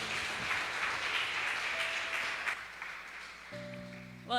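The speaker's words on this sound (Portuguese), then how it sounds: "Essas palmas foi para o pastor, tá bom, mas foi para o Senhor, pode ser mais forte" A church congregation applauds, a steady wash of clapping that tapers off midway, with faint tones and a brief voice near the end.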